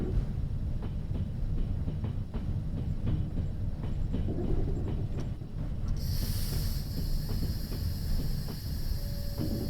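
A train rumbles along in Trans-Siberian Railway Simulator on PC, a steady hissing roll of wheels on rails with faint clicking, and a higher tone cutting in partway through.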